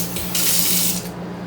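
Water runs from a newly installed kitchen faucet into the sink, a loud, close, steady hissing stream that cuts off near the end.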